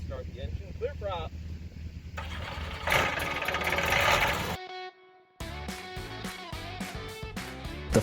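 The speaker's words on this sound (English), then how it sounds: "All right, we're going to start the engine. Clear prop." Small trike microlight aircraft engine, the REVO, cranking and catching, then running with a steady buzzing drone interrupted by a brief drop before picking back up; near and loud, with a voice heard early on.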